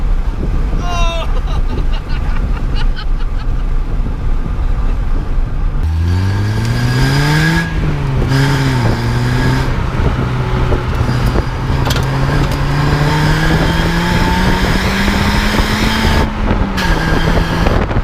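A Citroën Saxo VTS engine revs hard while driving, its pitch climbing steadily toward about 7,000 rpm and briefly dipping between gears. The engine is loud and close, with wind rush throughout.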